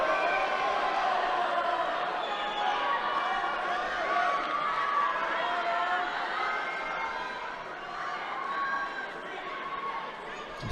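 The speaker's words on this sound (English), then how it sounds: "the crowd backing him and supporting him into the last minute now" A crowd at the European Judo Championships in Sofia cheers a Bulgarian judoka in the final minute of a bout, a steady roar of shouts and encouragement that stays loud throughout, with a commentator's voice over it.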